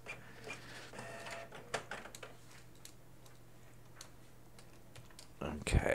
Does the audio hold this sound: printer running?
yes